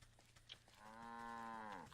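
A cow in the video game Wytchwood lets out one long, drawn-out moo that swells and holds steady before cutting off, heard clearly over a faint game backdrop.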